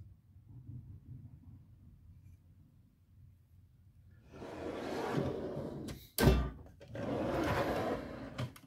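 A metal toolbox drawer slides on its runners with a rumbling roll, broken by a sharp bang in the middle, then another rolling slide; quiet before it starts.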